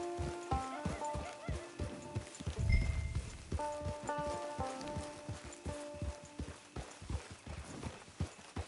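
A horse's hooves clip-clop at a steady walking pace in the Western video game Red Dead Redemption Online, close and rhythmic over soft background music, with a brief heavier thump midway.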